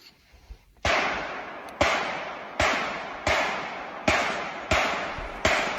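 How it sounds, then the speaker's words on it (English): Gunshots crack in the woods, a series of about seven sharp reports at a regular pace, each followed by a long echoing tail through the trees, loud and with no talking. "Definitely more than 4 shots."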